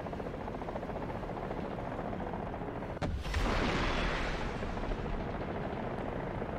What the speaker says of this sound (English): A heli too.